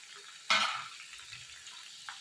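Okra drops into hot oil with a sudden bright sizzling burst that fades over a fraction of a second, followed by quiet crackling and a second, smaller sizzle near the end.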